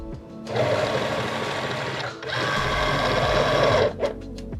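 A Singer Momento cutting machine draws in its cutting mat with a loud mechanical whir of motors, pausing briefly midway before running again and ending in a few short clicks.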